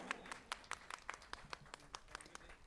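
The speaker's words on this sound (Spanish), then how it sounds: "Fuerte las palmas, Trujillo de mis amores." Audience applause at a solemn ceremony for the bicentennial of Trujillo, a steady patter of many hands clapping with scattered sharper individual claps, fairly faint and distant-sounding, without talk.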